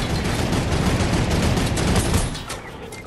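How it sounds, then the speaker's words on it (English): Dense, continuous bursts of automatic gunfire in the Fortnite video game, loud and close for about three seconds before easing off slightly at the end, with no voices over it. "I'm shooting at him while he on the turret!"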